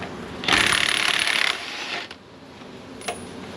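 An impact wrench spins off a bolt during an Oldsmobile 307 engine teardown, one loud, steady burst of about a second, then a quieter rattle and a small clank afterward.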